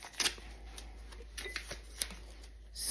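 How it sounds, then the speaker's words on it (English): Tape gets peeled off wine glasses in short crackling rips and rustles, with a few tiny clicks and a longer tearing sweep at the end, close and quiet. "let's take the tape off of these."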